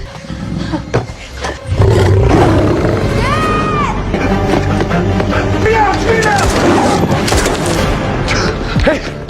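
A wounded lion roars in a tense scene from the film Beast, amid booms and gunfire. A narrator speaks over the loud, dense soundtrack.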